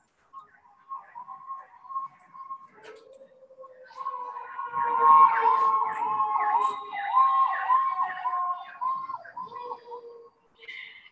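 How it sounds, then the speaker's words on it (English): An ambulance or fire engine siren passes along a busy Washington DC street, its wail rising and falling in repeated sweeps, moderately distant, swelling in the middle and then fading away. "I have another ambulance or fire engine."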